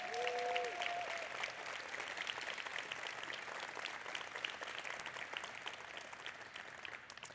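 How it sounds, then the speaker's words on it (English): Audience applause for the conference staff at a PSF update and awards session, a steady, moderately distant wash of clapping that holds for several seconds with no one speaking over it. "let's give a round of applause for them"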